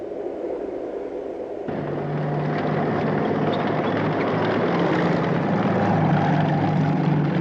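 An engine rumbles steadily, jumping louder after a brief quieter start, then holding a constant droning hum to the end.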